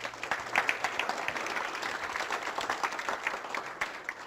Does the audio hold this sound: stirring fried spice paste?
no